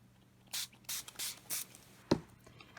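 Distress spray stain in Picked Raspberry misted onto a handmade travelers notebook journal page, four short hissing spray bursts in a quiet room followed by a single sharp tap.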